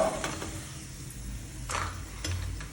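Chicken pieces frying in oil for Kerala-style chicken pickle give a soft, continuous sizzle, broken by a few clinks and scrapes of a utensil against the pan.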